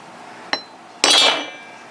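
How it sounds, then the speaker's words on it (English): A hammer strikes a metal punch to mark a spot on metal, one light tap followed by a single louder ringing blow that decays over about half a second, close and clear. "let me go grab some punches and a hammer"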